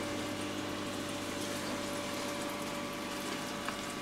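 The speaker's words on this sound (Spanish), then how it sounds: "Ahí están entrando el agua al acuario." Steady gushing flow of water pouring from a pipe elbow back into a Malawi cichlid aquarium, continuous and even with a low pump hum underneath, no talking.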